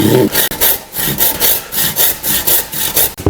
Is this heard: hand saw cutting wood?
yes